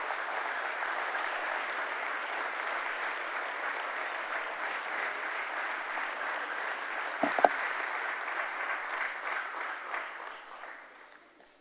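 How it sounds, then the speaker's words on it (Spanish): A church congregation applauding during a Sunday service, steady dense clapping from many hands that holds evenly for about ten seconds before tapering off. "Dale un fuerte aplauso a Jesús entonces."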